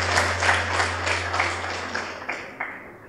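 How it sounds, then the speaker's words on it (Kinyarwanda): Applause from an audience at a Rwandan genocide remembrance gathering, a burst of clapping that swells and then thins into a few scattered claps, over a steady low hum. "tubaha amashyi menshi cyane."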